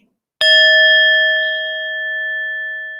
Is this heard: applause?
no